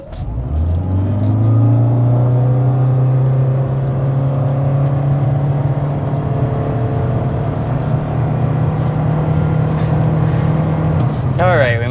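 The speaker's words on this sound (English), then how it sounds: "we'll start out with a hard acceleration" A 2024 Toyota Corolla under hard acceleration up to 60 mph, its engine drone rising steadily and loud from near the start with a long sustained whine that holds through the run, ending with a brief shift in tone.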